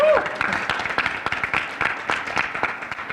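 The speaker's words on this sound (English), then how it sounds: "Students, please give your parents and guardians a round of applause for their work and dedication to you" Students in a high school auditorium applaud their parents and guardians at an academic recognition ceremony, a moderate round of many hands clapping in quick uneven bursts that stays steady for the few seconds.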